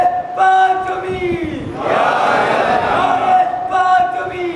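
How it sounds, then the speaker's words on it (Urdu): At a Muharram majlis in Masjid e Iranian, Mumbai, a sustained leading call is answered by a large crowd roaring a loud collective chant, before the lone call resumes. "نعرے فاطمی کا جواب یا زہرا ہے"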